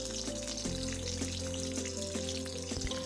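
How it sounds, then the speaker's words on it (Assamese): Kawoi fish frying in a pan gives a loud, dense, continuous sizzle heard close up, with a few soft clicks and no voices. "মই গোটেই মাছখিনি এনেদৰে ভাজি ল'লোঁ"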